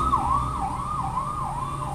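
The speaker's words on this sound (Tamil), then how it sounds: "ஓகே, ஸோ ஆம்புலன்ஸ் சவுண்ட்னால நம்ம கேட்காது." An ambulance siren sweeps up and down in a steady wailing cycle outside, loud and continuous with faint road traffic underneath and no talking.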